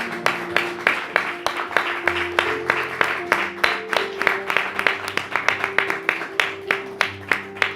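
A church congregation claps in a steady rhythmic beat along with music, sharp regular hand claps repeating throughout at moderate loudness.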